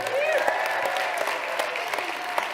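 An audience applauds the Tahoe Fund at a winter speaker event, a steady, dense wash of clapping from many hands that fills the room without pause, with a voice faintly audible over it.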